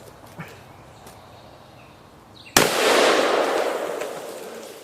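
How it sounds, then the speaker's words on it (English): One sharp, loud gunshot from a Smith & Wesson Magnum 500 revolver fired one-handed outdoors at a two-liter water bottle, followed by a long rolling echo that fades over two seconds, after faint ambient noise. "You see me about to shoot that with one hand?"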